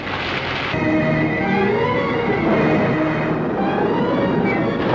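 Heavy rain pours down in a dense, steady roar in a 1961 film scene, with a low rumble of thunder rolling underneath.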